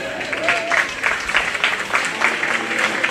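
A crowd claps steadily for a few seconds, a warm, even applause from a moderate distance, for children at a county fair livestock show.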